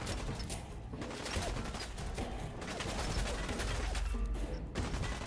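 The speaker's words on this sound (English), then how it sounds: "Where are you shooting from, bro?" Dense gunfire in the video game Fallout, rapid bursts of shots that blur into a continuous loud fusillade with mechanical rattles, close and steady throughout, with no talking.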